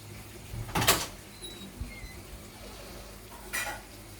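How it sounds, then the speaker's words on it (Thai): A spoon stirs sugar in a pot of water until it dissolves, made for a three-flavor dipping sauce served with crispy pork; two brief scraping bursts stand out over a quiet kitchen background with no talk. "คนให้น้ำตาลละลายค่ะ"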